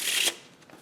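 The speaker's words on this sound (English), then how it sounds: "And they do shuffle really well." Red-backed playing cards riffle-shuffled close by in one short, crisp burst of flicking card edges that fades quickly into quiet room tone.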